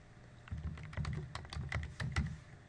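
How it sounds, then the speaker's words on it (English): Quick, close typing on a computer keyboard, a rapid run of light key clicks lasting a couple of seconds in a quiet room. "So we type in the field name"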